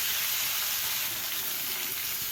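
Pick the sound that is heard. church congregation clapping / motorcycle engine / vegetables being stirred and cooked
vegetables being stirred and cooked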